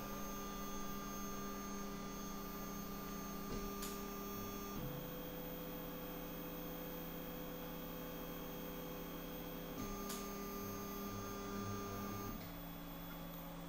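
TEVO Black Widow 3D printer homing its Z axis with a BLTouch probe fitted, a steady mechanical motor whine and hum that changes pitch in stages, with a couple of faint clicks.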